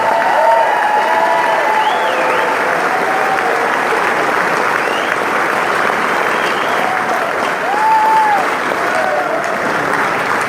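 A concert audience applauds a band member during the band introductions. The clapping is loud, dense and sustained, with a few scattered cheers and whistles in the crowd.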